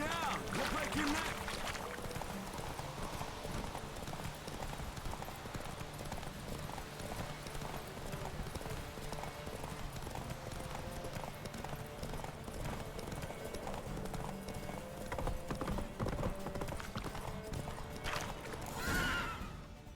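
Roach the horse's hooves clip-clopping steadily at speed in The Witcher 3 video game, a continuous drumming with a whinny near the end.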